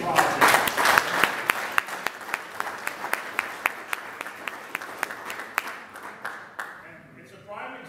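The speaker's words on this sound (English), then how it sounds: "I think we owe Dan Sims and Steve and John Smitter a round of applause" Applause from members at a Rotary Club meeting for a big project's organizers: many hands clapping at once, with a few sharper individual claps standing out, fading toward the end.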